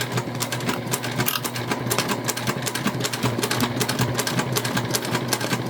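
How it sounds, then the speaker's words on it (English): A Juki TL2 sewing machine runs steadily and close, stitching a drawstring backpack seam through several fabric layers at full seam allowance, with a continuous rapid mechanical whir and no talking. "we're sewing this at the full seam allowance given in the pattern, so just be mindful of that. This is not a baste, this is a stitch"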